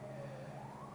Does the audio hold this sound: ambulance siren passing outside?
yes